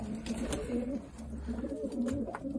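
Pigeons coo repeatedly inside a breeding loft of Turkish playing pigeons, soft rolling low calls overlapping at close range with light rustling and no talking.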